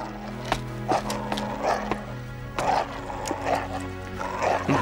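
Dogs bark in short separate bursts at an uneven pace, moderately close and fairly quiet, over a steady low background hum with faint scraping.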